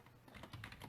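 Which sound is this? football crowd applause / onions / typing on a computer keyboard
typing on a computer keyboard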